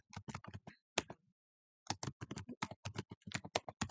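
Someone types text on a computer keyboard: quick, light keystroke clicks in a rapid cluster, a brief pause, then another longer run of tapping, close and fairly quiet.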